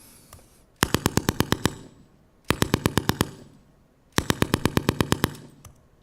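A recorded weapon firing three quick bursts of about seven sharp, high-pitched shots each, close and loud with short gaps of near silence between bursts.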